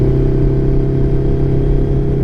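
A Yamaha FZX 700 motorcycle engine holds a steady, loud drone with a strong low hum and even overtones, running continuously and close throughout.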